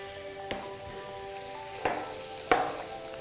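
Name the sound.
flour sizzling in melted butter, stirred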